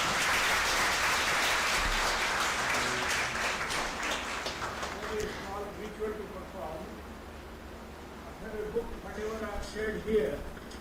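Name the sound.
audience round of applause after a keynote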